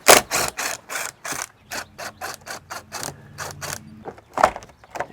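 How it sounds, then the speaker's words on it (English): A ratcheting tool backs a screw out during a window installation, giving a series of quick clicking ratchet strokes in uneven bursts, close and fairly loud with no talking. "Let's get this screw out first."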